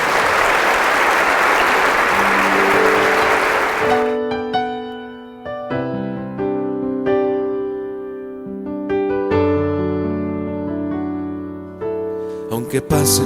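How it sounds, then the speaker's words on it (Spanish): A gathering at a prayer breakfast breaks into loud, dense applause for about four seconds, then it stops abruptly and sustained music carries on alone. "Vamos a darle un fuerte aplauso a Dios que está con nosotros."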